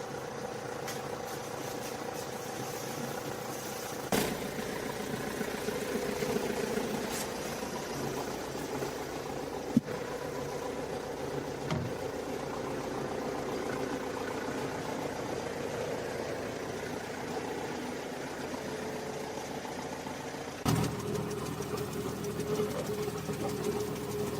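A tractor engine powering a fertilizer spreader runs steadily for a long stretch at a fairly quiet level, with a few sharp clanks and knocks along the way.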